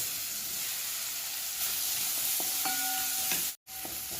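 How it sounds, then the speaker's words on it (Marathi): Chopped tomato hits hot oil seasoned with turmeric and asafoetida, giving a soft, continuous sizzle with a brief tonal ring in the middle and a short dropout near the end. "आता चिरून घेतलेला टोमॅटो पण टाकूया यात"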